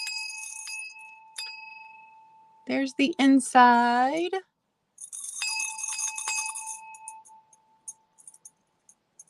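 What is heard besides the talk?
brass apple-shaped bell ringing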